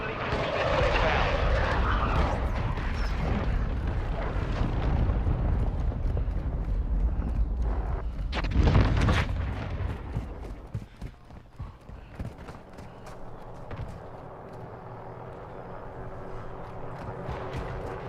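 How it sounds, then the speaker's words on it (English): A friendly cruise missile strike in Call of Duty MW2: a loud, roaring rush of engine and blast noise, swelling to a heavy impact around the middle, then fading into lighter crackling battle sounds. "Friendly cruise missile inbound."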